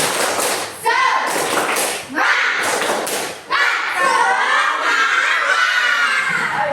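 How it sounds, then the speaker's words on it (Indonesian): A group of children in a classroom claps in quick rhythmic bursts while chanting loudly together, with short pauses between the clapping rounds. "1, 2, 3, tepuk semangat"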